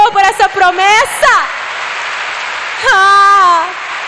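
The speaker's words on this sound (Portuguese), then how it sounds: "Você pode aplaudir o Senhor por essa promessa?" A church congregation at a women's worship service applauds in a loud, dense, even wash of clapping that continues throughout, while a voice speaks over it at the start and again near the end.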